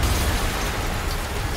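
A loud, sustained explosion in the Marvel's Spider-Man video game, a dense roaring burst with heavy low rumble that holds steady for over a second without fading.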